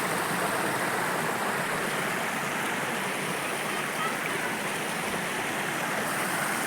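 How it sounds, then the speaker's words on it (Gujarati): Clear river water near Saputara in Dang, Gujarat, rushes past in a continuous broadband wash, steady and fairly close, with no distinct voices over it. "જો આ પાણી જાય છે આ નદીનું પાણી કેવું મસ્તનું પાણી જાય છે"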